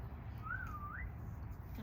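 A person whistles once at night, a short clear tone that rises, dips and rises again. It stands out over a low, steady background rumble.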